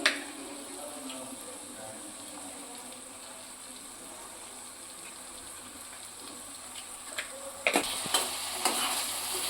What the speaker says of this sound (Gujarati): આપણે આને મિક્સ કરી દઈશું અને મીડિયમ ગેસ ઉપર બે મિનિટ માટે આ રીતે આપણે શાકને થવા દઈશું